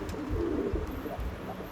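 A breeding pair of Andhra pigeons gives soft, low, throaty coos at close range in a quiet loft, a short gentle murmur with no other sound.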